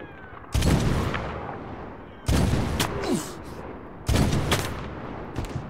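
Gunfire in the video game Medal of Honor 2010 comes as three loud, close bursts of shots spaced roughly two seconds apart, each trailing off into echo and debris.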